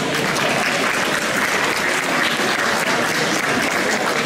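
An audience applauds at a Laridé dance competition in Plescop in 2020, a dense, steady wash of many hands clapping at close range that holds for several seconds without a break.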